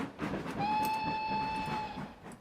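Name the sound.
steam train whistle and rail sounds in Trainz video game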